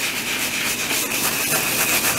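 A burgundy polish being worked into an old leather shoe, a 50-year-old Nettleton, giving a continuous close brisk rubbing and brushing hiss with a steady rhythm and no talk.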